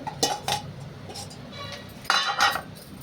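Ghee, cardamom powder, fried cashews and raisins go into a pan of bread halwa, bringing a few bright metal clinks of spoon against pan in short bursts, close and moderately loud.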